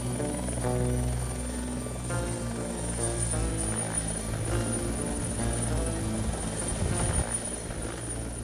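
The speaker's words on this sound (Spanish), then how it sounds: "el momento que se van los helicópteros" Helicopters fly over dense Honduran jungle, a steady loud rotor thrum and engine drone holding throughout with a faint high whine above, no voices.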